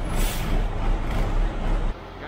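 A working dump truck's engine rumbles loudly and steadily before the air brake releases with a short hiss near the end, leaving a quieter idle.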